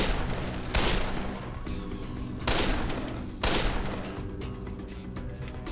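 Three loud, sharp gunshots from a firearm in the zombie game Dead Island, spaced about a second and a half apart, each with a brief ringing tail, with no talk.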